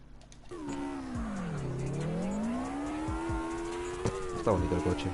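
A Syberia SWI car in CarX Drift Racing, its engine note dipping and then climbing steadily across a few seconds with possible tire squeal, loud and continuous, ending in a brief rough burst.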